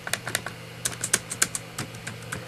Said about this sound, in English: The whole keyboard flexes when I push down on keys.